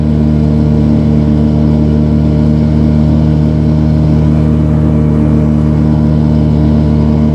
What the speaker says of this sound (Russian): Мотор Yamaha, конечно, все круто